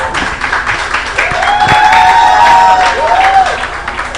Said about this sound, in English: Ladies and gentlemen, a round of applause for Sycamore.